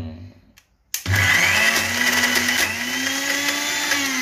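A mixie grinder blending tomato pickle with tamarind, starting abruptly after a brief quiet moment and then running as a loud, steady whirring drone close by.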